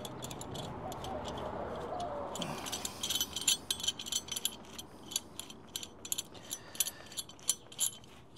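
A C-clamp pressing an old brake pad to push a brake caliper piston back in, heard up close as a run of sharp metallic ticks and ratcheting clicks that fall in an uneven rhythm, with no one speaking.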